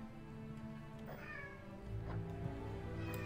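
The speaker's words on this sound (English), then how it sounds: "my cat is making a lot of noise" A cat meows faintly a couple of times, drawn-out calls over a steady low hum of game music and background noise.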